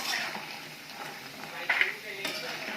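Sandge, lentil dumplings, frying in hot oil in a pan, a steady soft sizzle with occasional stirring scrapes and light clinks of utensils, close and continuous throughout.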